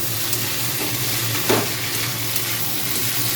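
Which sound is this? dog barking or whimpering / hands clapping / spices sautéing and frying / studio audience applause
spices sautéing and frying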